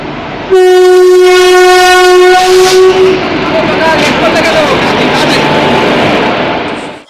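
A loud, long train horn blares, then a train rumbles and screeches into a station platform, its noise continuing steadily before fading at the end.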